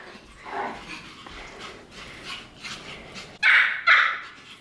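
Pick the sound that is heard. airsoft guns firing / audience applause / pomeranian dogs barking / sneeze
pomeranian dogs barking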